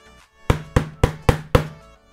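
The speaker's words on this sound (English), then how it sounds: "So the combination between the carbon fiber and the rubber makes this racket sound like this." A Puma padel racket built from carbon fiber and hard EVA rubber is tapped five times in a steady, even rhythm, each knock sharp, close and loud with a brief hollow ring, and no voices.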